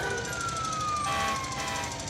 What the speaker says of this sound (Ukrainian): Коли це чує за вікном, сирена завила.